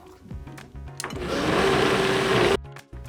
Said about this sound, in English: I'm going to grind it because I don't want to get too watery